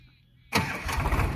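A Sonalika DI 35 tractor engine starts abruptly after a quiet moment, bursting into a loud, rough, low rumble that carries on at close range.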